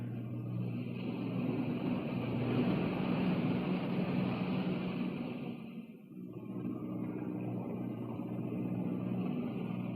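Aircraft engines drone steadily in flight, a loud continuous rumble with a brief dip midway before resuming at full strength.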